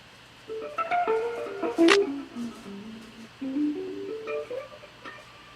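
A guitar with a plastic strip woven between the strings near the bridge plays a short, muted melodic line with a dry, clicky, buzzing tone, quiet and alone.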